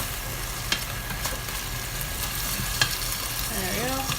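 Food being stirred in a pan on the stove under a loud, steady sizzle, with a few faint scrapes and taps of the utensil against the pan.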